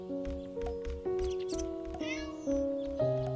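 A video-game cat being attacked by bees meows over and over in short strained cries, laid over steady synthetic game music tones with a pulsing beat.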